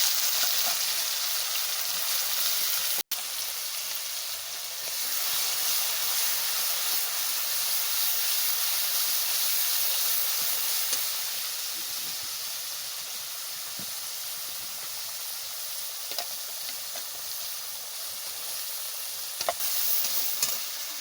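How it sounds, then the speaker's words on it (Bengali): Whole spices fry in oil for biryani, including coriander, cumin, ginger, chilli and black pepper, making a long steady sizzle and hiss with a few soft pops and a short break near the start. "ধইনা জিরা আছে, আদা লঙ্কা আছে, গোলমরিচ সব মশলা আমি দিয়ে দিচ্ছি তেলে করে, একেবারে মশলা কষা দেবে।"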